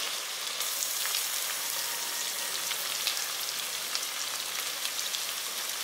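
Garlic sautéing in a hot pan with dried red chillies for pepper rice, giving a steady, close, dense sizzle that crackles evenly throughout with no voices.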